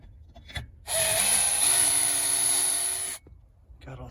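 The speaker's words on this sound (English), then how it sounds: "I'm gonna go ahead and drill that and screw it in." A power drill bores into a wooden board in one sustained whining burst lasting about two seconds, bracketed by quieter handling noises before and after.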